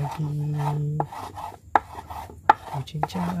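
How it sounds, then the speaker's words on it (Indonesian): A knife chops silk worms for feeding betta fish, giving quick rhythmic taps and rubbing scrapes on a board, close up with a low hum underneath and no talking. "coba kalian cincang-cincang gini terus, kalian balik lagi, jadi satu lagi, cincang lagi"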